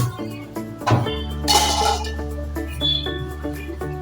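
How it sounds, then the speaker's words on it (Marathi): A metal lid is lifted off a pot of steaming mixed vegetables, giving a few bright clinks and clatters over a low steady hum, with one louder clank near the middle. "आपण ना झाकण काढूया"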